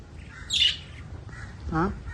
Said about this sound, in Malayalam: അതിനുള്ളത് കിളി, ലവ് ബേർഡ്സ്